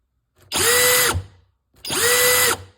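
Two loud, steady bursts of a power drill spinning a wire brush to scrub rust from old tools, each lasting under a second with a short pause between, close and without talk.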